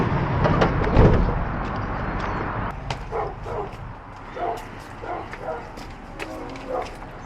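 A dog barks repeatedly at an Amazon delivery stop, with a loud burst near the start followed by a run of shorter, sharper yaps at a moderate distance.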